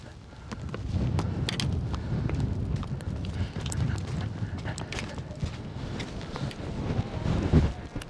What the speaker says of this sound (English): It's always a bit windy here at this point.